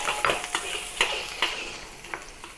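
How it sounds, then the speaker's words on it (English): Sichuan spices, ginger and garlic frying in hot oil in a wok, a steady sizzle broken by several sharp scraping stirs of the spatula against the pan at close range. "Now heat some oil in the wok and add the Sichuan spices"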